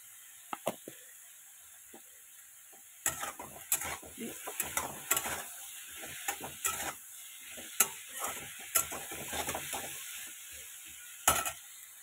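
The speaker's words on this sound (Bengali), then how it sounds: "ভাজা হতে থাকুক।" Vegetables frying with salt and turmeric, a low sizzle under repeated clattering scrapes of a spatula against the pan in irregular bursts, with no talking.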